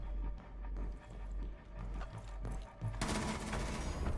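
Gunfire in the video game Rainbow Six Siege, a dense mix of rapid shots and impacts building into a louder, continuous burst of automatic fire near the end.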